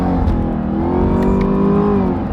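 Deep, loud exhaust of a Camaro ZL1 rumbling and revving, recorded with the microphone right in the exhaust, a throaty drone that swells then settles, with no talking.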